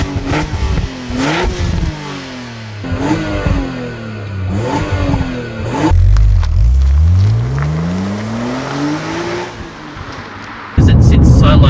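A BMW Z4 M (E86) roadster with the M3 engine drives on a bumpy road, its engine revving up and down through several gear changes, loud and close, ending in a burst of road and wind noise.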